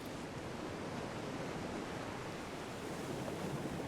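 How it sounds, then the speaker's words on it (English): Water and waves in Star Wars: The Old Republic, a steady broadband wash of rushing surf, constant and full without breaks or voices. "Can you hear the water sound?"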